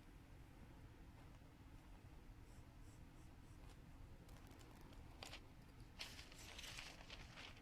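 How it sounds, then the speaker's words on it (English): A pencil scratches steadily across paper while tracing a sewing pattern, a continuous soft rasp close to the listener, with a few brighter strokes near the end. "I usually just go through with a pencil and just trace this"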